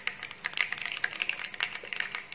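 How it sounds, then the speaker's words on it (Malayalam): Mustard seeds crackling and popping in hot oil while a pineapple pickle is made: a rapid, irregular patter of small, sharp pops, close and fairly quiet. "അപ്പൊ കടുക് പൊട്ടി വരുന്നുണ്ട്."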